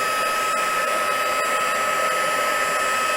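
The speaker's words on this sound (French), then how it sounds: "J'ai pris le souffleur Stampin' Up. Parce qu'en fait, il a 2 vitesses." A Stampin' Up craft heat blower runs steadily at maximum speed, a loud, constant whooshing whine with no pauses and no talking.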